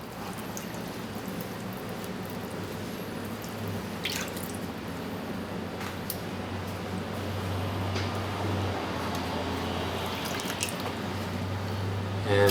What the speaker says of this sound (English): I'm going to rinse off the stone so you can see the kind of cutting speed also.